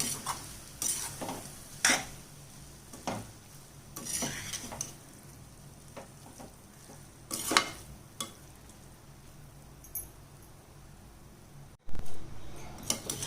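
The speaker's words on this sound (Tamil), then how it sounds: "இப்போ லெமனை புழிஞ்சிட்டு சாதத்தை நல்லா கிளறிக்கலாம்" A spoon stirs coriander rice with squeezed lemon in a pan, giving irregular scraping knocks and clinks against the metal over a faint, fading sizzle, close and unaccompanied by speech.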